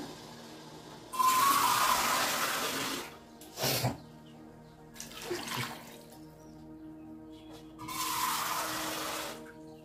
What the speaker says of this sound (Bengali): এবার আমি সেদ্ধ হওয়ার মতো জল দিয়ে দেবো বন্ধুরা